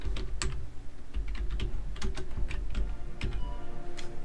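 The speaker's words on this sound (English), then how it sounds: "I'm gonna type in sports cars on Google." Keystrokes clatter on a computer keyboard as someone types a search into Google, irregular bursts of clicks close by with a low background hum.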